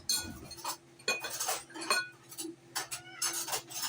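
A butter knife clinks and scrapes against dishes while brown sugar is packed into the cored hole of an apple for baking, with several sharp metallic taps spread across the moment and no talking.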